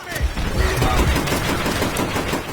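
Rapid, close gunfire in World at War, with dense repeated shots rattling over a low battlefield rumble; the exact weapon, a trench gun shotgun, is not distinct.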